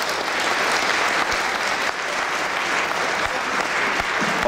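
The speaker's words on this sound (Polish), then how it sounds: "myślę, że gorące brawa się należą" Warm, steady applause from a crowd at a rally memorial event, honouring the road workers; dense continuous clapping for several seconds, close and loud, with no speech over it.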